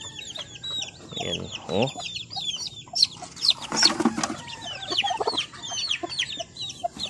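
A brooding hen clucks and squawks repeatedly, close and agitated, with bursts of wing flapping as she is handled while set on ten eggs; someone speaks briefly over the calls.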